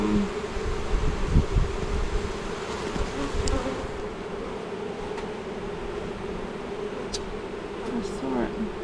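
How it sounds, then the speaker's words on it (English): Honey bees buzzing inside an open beehive during a beekeeping inspection, a steady close drone of many wings with brief louder passes near the microphone. "Oh, here's a little bee with pollen."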